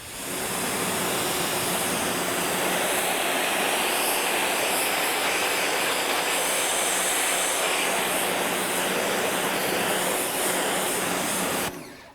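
Electric 3,000 PSI pressure washer spraying at close range through a 15-degree tip, a loud, steady hissing roar of water jet and motor that holds unbroken for about twelve seconds, then cuts off at the end.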